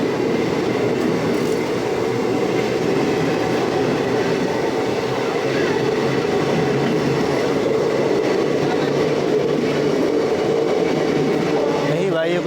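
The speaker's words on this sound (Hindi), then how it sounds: "सामने की आ रहा है 15075 सिंगरौली टनकपुर त्रिवेणी एक्सप्रेस WAP4 लोकोमोटिव के साथ।" A passenger train rolls steadily past on an Indian railway line, a loud continuous rumble of wheels and carriages with a metallic rattle throughout, close by and sustained for the whole stretch.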